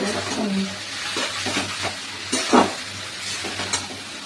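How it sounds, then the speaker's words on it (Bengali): Chinese food is stirred and fried in a pan, giving a steady sizzle with scraping spatula strokes and occasional clinks, heard close and fairly loud with a low background hum. "আমাদের চাইনিজ ফুড রান্না হচ্ছে"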